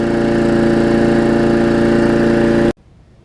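A small Murray lawn mower engine running steadily at a loud, close, buzzing idle for a few seconds before it cuts off abruptly into silence.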